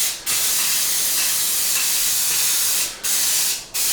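An aerosol can sprays matte lacquer over weathered OO gauge model railway scenery in a steady, loud close hiss, broken by brief stops near the start and twice near the end.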